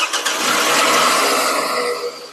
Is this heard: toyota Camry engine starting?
yes